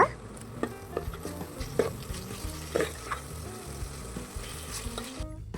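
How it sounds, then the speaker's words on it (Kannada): Mutton pieces coated in masala fry in a pan, giving a steady close sizzle broken by scraping stirs and clinks of a spatula, with no one talking. "ಮಸಾಲೆ ಎಲ್ಲ ಮಟನಲ್ಲಿ ಹೊಂದ್ಕೊಬೇಕು, ಅಲ್ಲಿ ಗಂಟ ಚೆನ್ನಾಗಿ ಫ್ರೈ ಮಾಡ್ಕೊಳ್ಳೋಣ"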